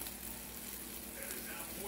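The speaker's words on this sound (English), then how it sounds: "I'm cooking salmon burger." A salmon burger sizzles and fries in a pan with a steady, close crackling hiss throughout a short stretch.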